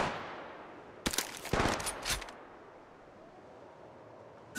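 Rapid bursts of gunfire from the Apex Legends video game rattle out over about a second, loud and close with sharp repeated cracks, then fade into a quiet ambient hiss.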